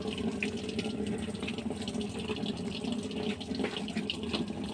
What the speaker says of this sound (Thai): ดูน้ำเข้านะ น้ำเข้าแล้วนะครับ รอน้ำได้ระดับถึงเจ็ดปักนะครับ